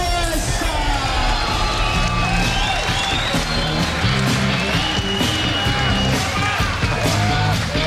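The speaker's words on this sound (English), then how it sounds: "Capacity crowd at the Southport Sharks." A capacity crowd cheers and whoops loudly and continuously at a Muay Thai fight night at the Southport Sharks venue, with shouts, applause and an announcer's voice mixed into the steady roar.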